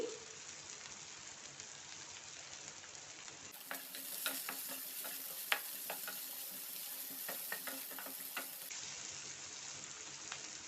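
Onions fry with green chillies and ginger in a pan for oats upma, a steady close sizzle with light crackles and stirring scrapes, fairly quiet and continuous throughout.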